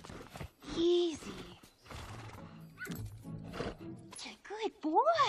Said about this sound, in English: He's a bad horse.